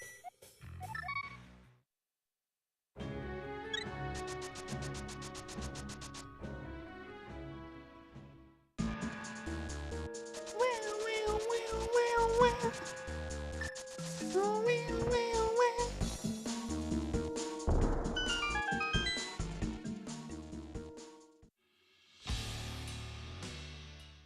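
Gliding electronic meows from the cat in the Zelda: A Link to the Past video game sound over bright chiptune music and sound effects, with brief silent gaps between passages and no voices.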